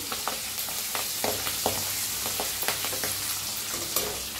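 Green chillies and asafoetida frying in a pan and being stirred, a steady close sizzle with soft scraping strokes from the spoon throughout, and no talking.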